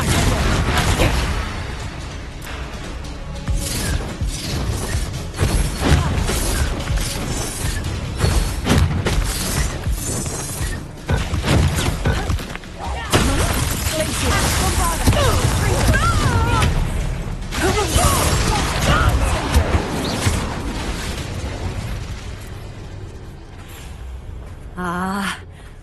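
Repeated Confringo fire-blast spell explosions in Hogwarts Legacy burst loudly amid constant combat clatter and shattering, with a caster shouting spell names and other voices talking over the chaos.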